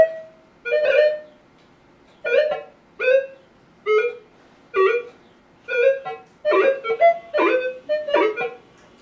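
Minelab Explorer metal detector sounding over a half-ounce lead fishing weight in an air test: a series of about ten short warbling tones, repeated roughly once a second, growing busier toward the end, clear and alone.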